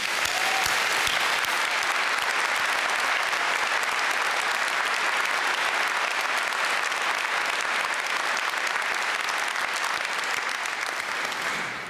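A graduation audience in a university hall applauds steadily and loudly for about twelve seconds, a dense, continuous wash of many hands with no talk.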